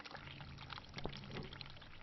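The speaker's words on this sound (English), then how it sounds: "The water from the bath has completely flooded the bathroom floor." Bathwater spilled across a flooded bathroom floor in the horror game The Cat Lady, a quiet continuous pouring and trickling with a faint splash midway, heard alone.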